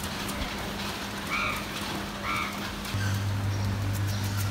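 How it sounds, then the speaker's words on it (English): Steady rain falling over a city neighborhood in downtown Yangon, a constant hiss of drops on surfaces with a low hum underneath and a few faint background sounds. "It has been raining here in Yangon since morning."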